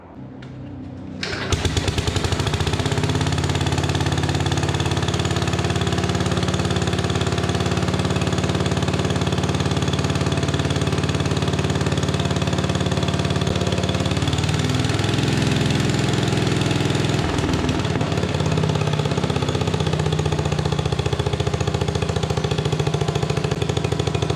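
A 1957 Gard'n Mast'r garden tractor engine runs steadily after starting, fitted with an old Champion spark plug on its original ignition system, a loud continuous idle with a brief dip in the middle and no talk.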